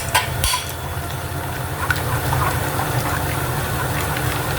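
A spoon works through bitter gourd laksa soup with coconut milk in a metal pot, giving a steady wet churning with occasional scrapes and clinks against the sides, close and continuous.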